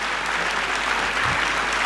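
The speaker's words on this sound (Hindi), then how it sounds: "तो एक बार जोरदार तालियां हो जाए उन बच्चों के लिए" An audience at a school annual function applauds the nursery-class children, dense steady clapping throughout with no distinct voices.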